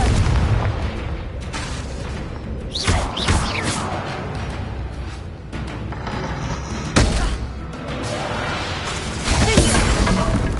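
Confringo fire spell cast in a Harry Potter video game, loud booming blasts with whooshing bursts over a dense rumbling background, several impacts spaced across the clip.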